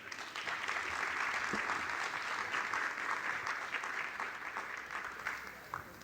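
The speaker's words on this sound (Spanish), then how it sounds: "Un gran aplauso para ellos, por favor." A conference audience applauds its speakers in a steady, dense wash of clapping that lasts throughout and fades slightly toward the end.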